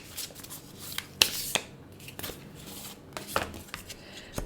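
A deck of sacred medicine oracle cards is shuffled close by in a quiet room. There are soft riffling rustles and several sharp card snaps, all fairly faint.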